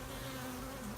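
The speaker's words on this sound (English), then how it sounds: "these bees look fairly calm on her" Honey bees from a package buzz close around a queen cage in a dense, steady drone with no pauses or talking.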